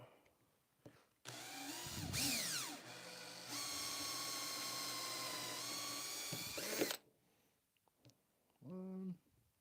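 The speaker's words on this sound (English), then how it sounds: "we'll drill these out" A power drill whines loudly in two long bursts, rising and falling in pitch as it bites into material, then stops; a brief voice follows afterward.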